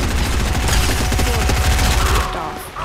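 Rapid bursts of gunfire from the video game Fortnite crackle almost continuously in quick, rattling volleys that are loud and close, then ease off near the end.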